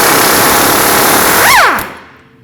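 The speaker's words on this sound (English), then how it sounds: "a 17mm socket on the nut side to take that off" A power tool with a 17mm socket spins loose the nut on a sway bar link of a 2005-2021 Nissan Frontier, giving a steady loud whirring buzz whose pitch sweeps up and back down before it cuts off, with no talking.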